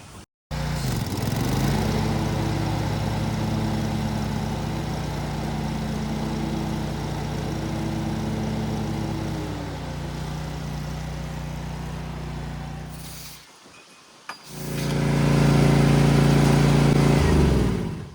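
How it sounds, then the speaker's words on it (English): A zero-turn lawn mower runs with its blades engaged, a steady loud engine and blade drone holding for several seconds, dipping briefly near the end before surging back up to full roar, with no talking. "I also like to go ahead and turn the blades on for 5 to 10 seconds."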